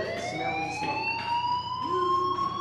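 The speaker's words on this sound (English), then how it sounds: "Hey, do you hear that fire alarm?" A fire alarm in Life Is Strange wails continuously, a steady rising electronic siren tone that sounds close and loud, with faint background voices beneath it.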